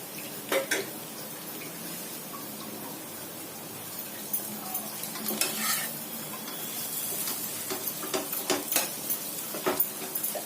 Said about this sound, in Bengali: আর একটু ভাজা ভাজা হবে, আমি জোর করে দিচ্ছি, এতক্ষণ লোয়ে করছিলাম, একটু হাই করে দিলাম